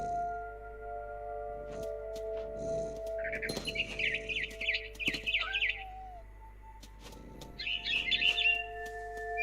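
A mother bird chirps in the video game What Remains of Edith Finch, with bursts of bright tweeting calls repeating over a steady ambient game background, fairly close and clear.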